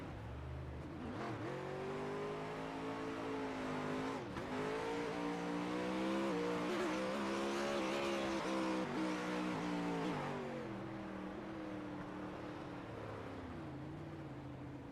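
Onboard engine of a dirt oval race car at Eldora, loud and close, revving steadily with rising and falling pitch through gear changes and a brief lift early on, continuous for the whole stretch.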